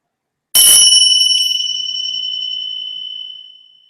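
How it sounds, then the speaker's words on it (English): A single meditation bell is struck once, giving a bright, clear metallic ring that hangs in near silence and slowly fades over about three seconds. "When you hear the sound of the bell"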